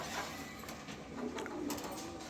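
Soft, low cooing from a pair of racing pigeons, faint and a little distant under steady background noise.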